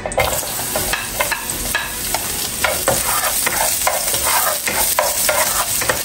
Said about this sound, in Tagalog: ato nang i-start og gisa ang atoang mga lamas. So, first, ang atoang onions.